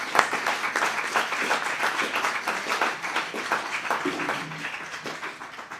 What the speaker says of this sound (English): a round of applause for SuAndi